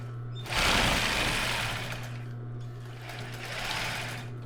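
Sewing machine running a medium zigzag stitch on fabric, a close, rapid mechanical whirr in two bursts separated by a brief pause, over a steady low motor hum.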